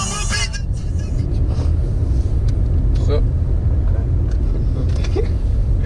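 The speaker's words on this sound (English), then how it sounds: "So yeah, that was driving with Arne and Dennis" A car drives along with a steady, loud low engine and road rumble filling the whole stretch from inside the vehicle, with faint voices in the background.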